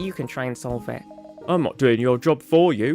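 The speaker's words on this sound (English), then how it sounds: "Oh, that's the phone. I'll get it." A telephone rings briefly with a short electronic tone, heard in a pause between two people talking nearby.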